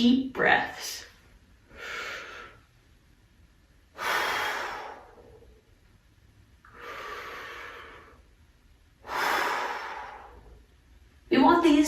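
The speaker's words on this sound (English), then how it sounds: "We're just going to take some deep breaths." Slow, deep, smooth breaths drawn in and let out before trombone playing, roughly five long airy inhales and exhales spaced a second or two apart, close and quiet, with brief talk at the start and end.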